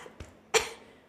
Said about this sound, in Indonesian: Aku saking shocknya jadi batuk tuh gak?